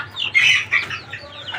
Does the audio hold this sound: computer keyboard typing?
no